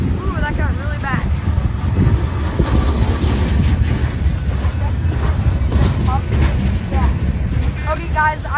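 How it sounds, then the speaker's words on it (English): A train rolling slowly past a railroad crossing in Edmonds during wind and rain, a steady low rumble with squealing wheel tones and crossing-gate warning pings heard throughout. "this train's going to be going really slow for a long time because of the gate warning"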